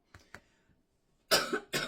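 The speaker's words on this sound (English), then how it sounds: "with an annoying lady coughing" A woman coughs: two faint small coughs first, then after a short silence two louder, harsh coughs close up.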